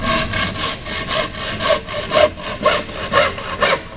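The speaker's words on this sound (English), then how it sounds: "Just gonna use one of these hand saws here." A hand saw cuts through a workpiece clamped in a vise, while building a bedrock crevice sucker for gold dredging; steady rhythmic rasping strokes, about eight back-and-forth passes, close and fairly loud with no talking.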